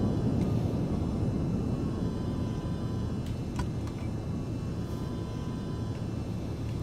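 A Just Flight PA-28R Arrow single-engine propeller plane in Microsoft Flight Simulator 2020 drones with a steady, dense low engine rumble and even cabin hum, continuous and unbroken, with no talking.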